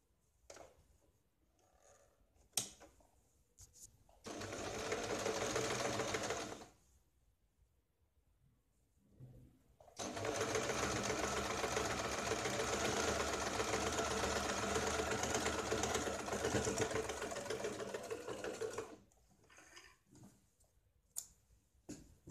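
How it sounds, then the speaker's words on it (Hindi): Sewing machine stitching along folded fabric on a katori blouse, running in one short burst and then a longer steady whirring run, close and quiet with light clicks between runs. "इसको अंदर के साइड में फोल्ड करके इसके ऊपर हम सिलाई लगाते हैं"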